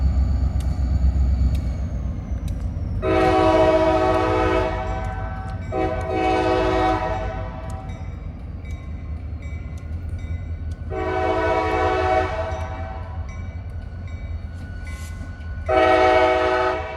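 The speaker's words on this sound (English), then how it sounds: "There must be another train coming or something" A train rolls past Haley Tower in Terre Haute, sounding its horn in four separate blasts over a steady, loud rumble of wheels on rails.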